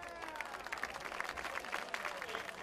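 Crowd applause from the home side at a high school football game, scattered clapping spread across the stands under faint background chatter.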